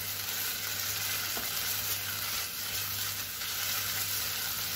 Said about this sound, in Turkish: Şimdi salçamızı koyduk. Birazcık da salçamız kavrulacak.